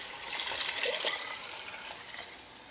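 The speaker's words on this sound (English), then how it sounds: "I'm going to add 6 cups of warm water." Six cups of warm water pour into a pot on a Southern farm kitchen stove, a steady soft splashing gush that gradually tapers off, fairly quiet and with no talking.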